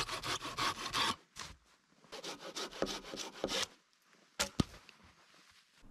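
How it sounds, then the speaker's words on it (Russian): Hand saw cutting wood in a winter forest, quiet rhythmic back-and-forth rasping strokes in short bursts with pauses between, close and alone without talk. "Можно пилить двумя руками."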